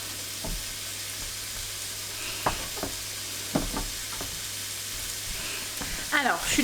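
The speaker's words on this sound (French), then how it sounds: "je suis en train de faire revenir des lardons et faire cuire mes œufs" Lardons and eggs frying in a pan give a steady low sizzle, broken now and then by sharp pops and utensil clinks against the pan, with a brief clatter near the end.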